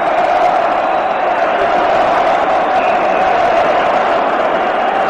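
Hockey crowd at Chicago Stadium during a 1985 Stanley Cup playoff conference final against Edmonton, a loud continuous roar of massed voices chanting and cheering with no break.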